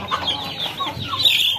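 Several young hens about four months old cluck and chatter nearby, overlapping soft and sharp calls in a continuous busy murmur with no speech.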